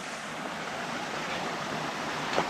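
Steady rushing of water at the Muddy Forks stream crossing on the Mt. Hood Timberline Trail, a broad continuous wash of flowing water close by with wind noise, no voices.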